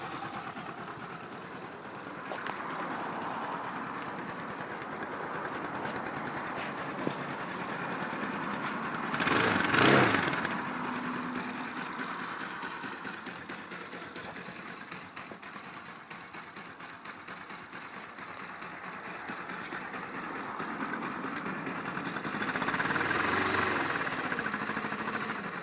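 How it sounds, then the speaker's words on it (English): A Skyteam V-Raptor 250 motorcycle engine idles steadily after an electric start, a constant mid-pitched hum with a brief louder swell partway through and no talking. "now we can turn the thing off and engine's running."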